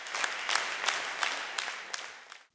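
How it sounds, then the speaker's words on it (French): A concert audience at the Printemps des Arts festival applauds, a moderate, fairly distant wash of clapping that fades out abruptly after a couple of seconds. "Marc Monet a été chaleureusement applaudi par le public, nombreux et reconnaissant"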